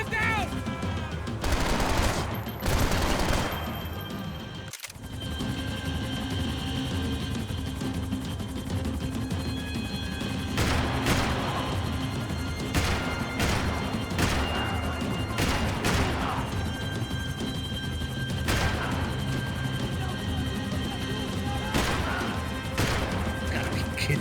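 Dense automatic gunfire and explosive impacts from the video game Max Payne 3 make a loud, nearly continuous barrage with sharper bursts throughout.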